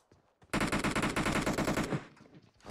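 A PUBG Mobile firefight on a bridge with a loud, rapid automatic burst of gunfire lasting about a second and a half, preceded by a couple of faint shots.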